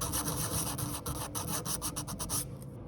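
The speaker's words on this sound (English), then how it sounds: "Need to sand it off." Steady rhythmic rasping of sandpaper scrubbing the metal body of a 1:18 scale Chevrolet Corvette model car, close and continuous, with quick back-and-forth strokes that stop near the end.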